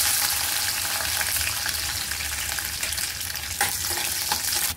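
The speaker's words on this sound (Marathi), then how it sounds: "तेल गरम झालेलं आहे, शेंगदाणे टाकले," Peanuts fry in hot oil in a kadhai on a gas stove, a close, steady sizzle and crackle with a few soft stirring knocks near the end.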